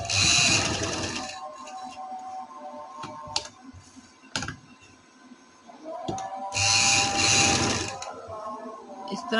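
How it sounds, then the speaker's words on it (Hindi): A sewing machine stitches fabric for a patti and lace edging in two loud bursts at the start and end, fast whirring runs separated by a quieter stretch of handling clicks and taps. "इस तरह घुमाएंगे और इधर सिलाई लगाएंगे।"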